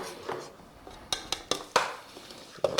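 A utensil clinks against a bowl while herbed breadcrumbs and garlic are mixed together, a few sparse, bright taps over quiet kitchen background.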